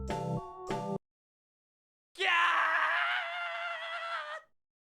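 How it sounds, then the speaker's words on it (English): A sudden sustained shriek rings out from inside a school building in a video game, loud and piercing for about two seconds after a short musical sting and a moment of silence. "We heard a sudden shriek from within the school building."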